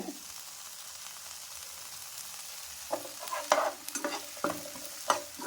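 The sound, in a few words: frying and stirring capsicum (bell pepper) in pan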